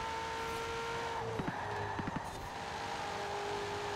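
Ferrari 488 GTB in Forza Horizon 4 driving steadily, engine droning at a constant pitch with a brief rise and dip in revs midway, loud and close with no talk.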